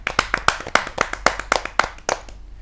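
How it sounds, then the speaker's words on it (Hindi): A few audience members clap at a Hindi kavi sammelan to welcome a young poet onstage, the claps sharp and fairly close, a sparse uneven handful of hits that thins out and stops within a couple of seconds. "जोरदार तालियों से स्वागत कीजिए इस युवा कवि का"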